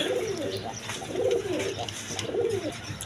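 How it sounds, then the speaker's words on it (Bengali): A pair of large Gopalganj local Golla pigeons coo in three rolling, throaty bursts at an even pace, nearby and fairly loud, with no voices. "গোপালগঞ্জের দেশি গোল্লা কবুতর বলে, একদম বিগ সাইজের কোয়ালিটি সম্পন্ন কবুতর"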